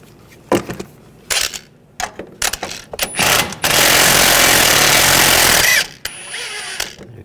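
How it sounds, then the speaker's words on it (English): An impact wrench rattles in several short bursts while loosening the front strut nut on a 2009-2017 Volkswagen Tiguan, then hammers in one long, loud, continuous run before stopping. "We're going to go back to using the impact."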